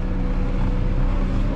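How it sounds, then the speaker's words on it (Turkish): New Holland T5.140 tractor running at high revs, a dense, constant engine roar, close and loud, with no change in pitch or level and no voices. "Oo, felaket tur var traktörde."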